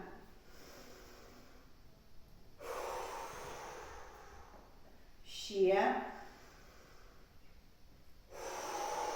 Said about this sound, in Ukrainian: Я хочу почути, як дихають ваші носики.